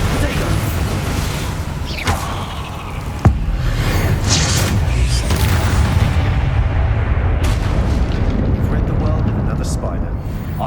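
A Bombarda spell explodes in Hogwarts Legacy as a sharp blast, followed by dense, rumbling, crackling noise that carries on steadily.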